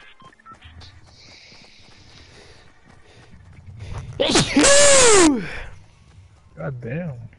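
A single loud, abrupt sneeze bursts out midway after quiet background shuffling, followed by a brief voice.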